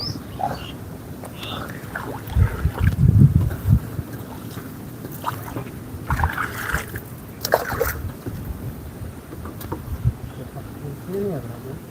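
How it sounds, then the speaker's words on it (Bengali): Water sloshes and splashes as a small boat is pushed along with a bamboo pole among water lilies on monsoon village waters, with rustling, outdoor wind noise and voices talking now and then. "কঞ্চি দিয়ে আর কি নৌকা চালাচ্ছি"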